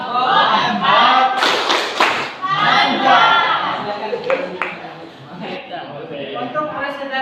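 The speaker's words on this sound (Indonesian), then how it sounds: "Kita berikan tepuk salut untuk kelompok 4." A classroom group gives a rhythmic clap for a presenting team, loud and near with several sharp claps and crowd voices calling out over it.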